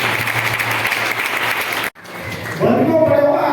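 A large audience at a Swaminarayan Shakotsav festival gathering claps steadily, dense and loud, breaks off for a moment, then resumes with a voice speaking over the applause.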